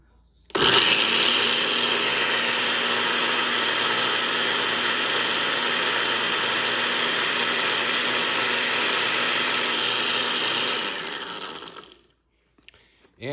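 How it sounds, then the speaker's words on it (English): A blender purees a salsa base with a lid on, a loud, steady whirring grind that runs unbroken for about ten seconds before winding down and stopping. "So I'm going to put the lid on, puree this up again"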